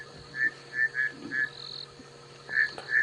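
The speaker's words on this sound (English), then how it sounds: "we can hear some bushveld rain frogs calling now" Bushveld rain frogs calling outdoors at dusk on a safari drive: short, shrill chirping peeps repeated in loose clusters, moderately close, over a steady low engine hum and faint insect noise.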